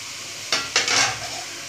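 Capsicum cubes are stirred in a hot pan for chicken white sauce pasta, a few quick scraping strokes over a continuous sizzle, close and clear.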